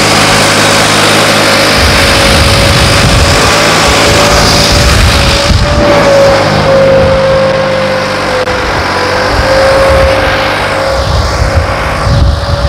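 A New Holland 3630 tractor, modified to turbo power, runs under full load with a steady, loud mid-pitched engine drone that holds throughout with slight shifts in pitch, no voices over it.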